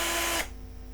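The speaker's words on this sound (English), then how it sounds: "if I turn the drill on" An electric drill whirs with a steady high-pitched motor whine for a little under half a second, then abruptly cuts off, leaving only a low residual hum.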